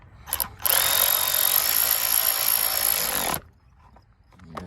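A HART 20-volt 3/8 inch cordless ratchet tightens a bolt in one steady, loud motor whir of about three seconds, close by, after a few brief clicks and followed by quiet.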